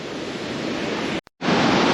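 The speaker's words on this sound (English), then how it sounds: "it brings you like right up to the edge of the waterfall here" Roaring waterfall in the Gasterntal valley near Kandersteg, a steady loud broadband rush heard close at the edge of a huge drop, briefly cut out for a split second before resuming.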